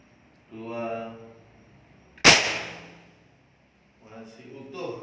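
A single sharp gunshot cracks out during a bulletproof test in which a person is shot at, loud and close, with people talking before and after the blast.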